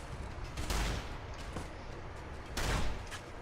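A shotgun firing at powder gangers in Fallout: New Vegas, with a few heavy, sharp blasts spaced about a second apart over low game ambience.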